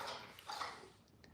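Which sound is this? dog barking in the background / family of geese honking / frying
dog barking in the background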